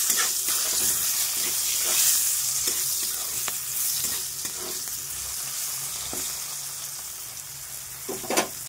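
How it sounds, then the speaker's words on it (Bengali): Flat beans (shim) frying in a pan, a continuous bright sizzle with occasional spatula scrapes and taps against the metal, moderately close. "সিমগুলো ভাজবো"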